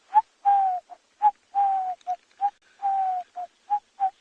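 A Cape turtle dove, also called the ring-necked dove, calls at sunset on a Kalahari safari: a repeated series of clear, rhythmic coos, short and drawn-out notes alternating, close and distinct against a quiet background.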